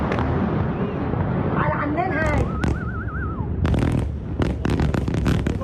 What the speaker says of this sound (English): with a series of massive explosions